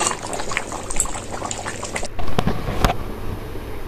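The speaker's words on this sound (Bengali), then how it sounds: "আর একটু ফুটলেই নামিয়ে নেবো।" Chicken curry bubbling in a pan, a busy liquid simmer with gurgles and pops that drops away partway, leaving a few scattered clicks and plops.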